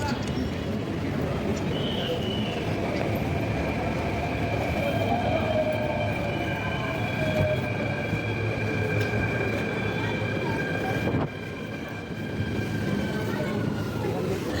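A Mumbai metro train rumbles steadily through a station, with long whining tones from the motors and a constant low roar, plus faint voices in the background.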